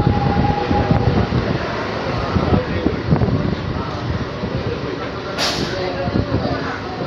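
An ICF EMU local electric train rumbles and clatters as it slows into Shaktigarh station, a continuous loud rolling noise with a brief sharp hiss near the end.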